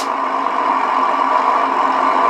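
An HL truck engine idling, a steady, even hum with a strong midrange drone that holds constant and close for the whole stretch, with no revving and no voices.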